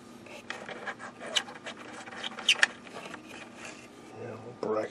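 Small screws are turned out of the bracket of an old DKE 38 radio during restoration, giving faint scraping, rubbing and rasping sounds in short bursts, close and quiet.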